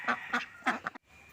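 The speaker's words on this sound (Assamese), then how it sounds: "আৰু হাঁহখিনি চৰি আছে ইয়াত।" Ducks kept in a round bamboo-fenced pond give several short honking quacks close by, three or four calls in quick succession and then a brief quiet stretch.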